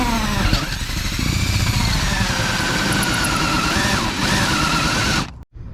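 A drill bit boring a hole in a boat at a marked center point: a loud, steady motor whine with slight pitch wavering that runs for several seconds, then cuts off abruptly.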